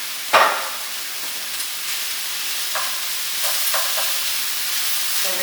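Meat sizzling steadily in a hot pan with golden onions and bay leaves for Turkish moussaka, a sharp scrape at the start and then brief stirring clatters over a continuous frying hiss.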